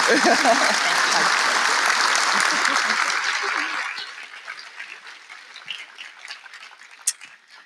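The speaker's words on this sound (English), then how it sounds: "If we can have one more round of applause for Rita." Applause from a convention audience at a plenary session fills the hall, strong and dense at first, then thinning over the last few seconds into scattered, fading claps.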